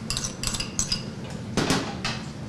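Repeated clattering of utensils against a bowl while mixing chopped baked carrot, potato and beet, bursts of scraping and clinking in quick succession, close and fairly loud with no voices.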